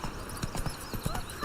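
Hoofbeats from Geralt's horse Roach galloping in the video game The Witcher 3 land as a quick, evenly spaced clip-clop, moderately close against a soft ambient background.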